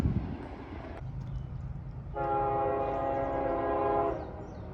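A CSX freight train sounds a long, steady horn blast for a road crossing, rising over the low rumble of the rails and holding for about two seconds before fading back into the rumble.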